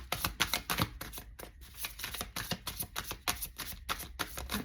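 Tarot cards are shuffled close up in quick, rhythmic riffles and slaps that repeat steadily, with brief pauses between bursts and no voices.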